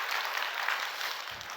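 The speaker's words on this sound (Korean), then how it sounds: "여러분 가희를 위해서 다시 한번 박수 한번 해줘요." A church congregation at an early-morning service claps together in steady, dense applause filling the room, with no voices over it.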